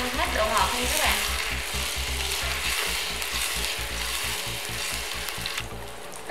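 Salmon pieces fry in a pan of hot oil, crackling and sizzling steadily at close range, with a few sharp pops and faint utensil stirring.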